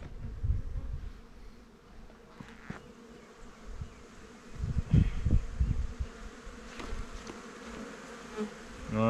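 Honeybees buzz after being shaken off a hive super onto the top of a hive in December, a low droning swarm in irregular loud swells close by, with no talk over it.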